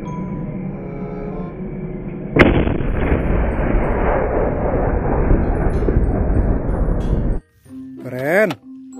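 A toy steel tank fires a loud, sustained rumbling blast effect lasting several seconds, followed by a short electronic warbling siren tone.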